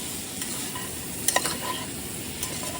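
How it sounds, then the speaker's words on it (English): Pork with turmeric stirred in a hot frying pan, a steady low sizzle with a few short scraping clinks of the spoon against the pan, close and moderately loud throughout. "Let's give it a stir."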